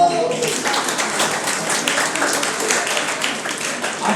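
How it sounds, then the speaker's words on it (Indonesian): A church congregation applauding at a worship service, a steady wash of dense clapping that starts abruptly and holds at a fairly even level throughout. "tepuk tangan loh"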